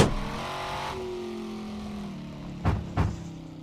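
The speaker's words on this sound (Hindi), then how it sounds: "सिर्फ इस गाड़ी का साउंड सुनिए" A car engine in the mobile game Car For Sale revs, a steady drone with a rising pitch, followed by two short sharp blips of the throttle near the end.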